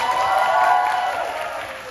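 Applause from an audience at a regional youth capacity-building workshop, a steady wash of many hands clapping with crowd murmur that holds loud and then eases slightly toward the end.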